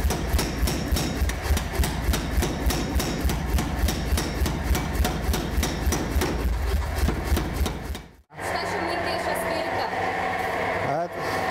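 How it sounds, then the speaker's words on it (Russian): A smith hammers out a horseshoe blank, steady rhythmic ringing blows on metal close by for about eight seconds, then workshop hum and machine noise after a brief silence; speech is likely in places. "Заготовку на подкову оттянули."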